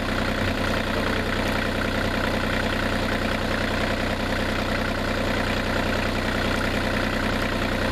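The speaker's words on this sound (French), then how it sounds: "Et c'est pas un avion, c'est un tracteur." A tractor engine idles steadily and loudly throughout, a constant low rumbling drone with no pauses.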